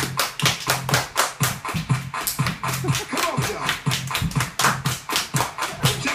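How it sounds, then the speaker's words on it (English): Children clap their hands in a steady, even rhythm during a kids' dance session, roughly two claps per second, close and fairly loud, continuing without pause for about six seconds. "Everybody clap your hands."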